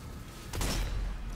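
Explosion in the zombie shooter Zombie Army 4: Dead War, a single broadband burst about midway that swells loud and then rumbles away into a low roar, with no talk over it.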